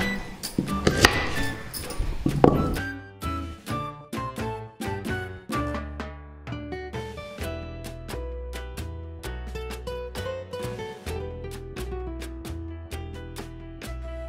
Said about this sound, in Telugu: ఇప్పుడు ఉల్లిపాయ కట్ చేసుకుందాం